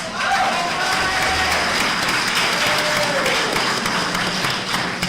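Audience clapping at a political candidates forum, a continuous, fairly loud wash of applause from a crowd in a room, with faint voices mixed in underneath.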